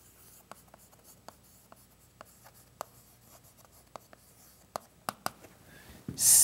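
Chalk or marker tapping and scratching on a board during a Portuguese arithmetic lecture on Diophantine equations, in short sharp strokes spread over several seconds, then a louder rub or knock at the end; no speech.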